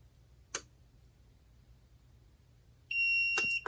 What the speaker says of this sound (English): So the timer's going to ring.